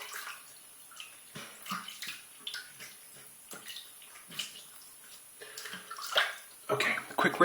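A Slim Adjustable razor set on 9 is quickly rinsed under a running tap. Soft, uneven splashes and trickles come in short bursts at low level and grow louder toward the end.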